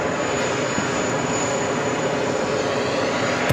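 A JetBlue airliner, freshly painted, taxis to parking at JFK with a steady, loud engine roar and whine that holds level throughout, no voices present.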